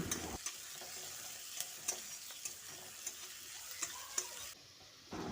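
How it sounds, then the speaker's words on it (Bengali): Onions fry in a pan for a masoor dal dish, a soft, even sizzle with a few faint clicks of the spoon, quiet and close, ending in a brief lull, no voices. "এবার পেঁয়াজটাকে বেশ কিছুক্ষণ সময় ধরে লালচে করে ভেজে নেব"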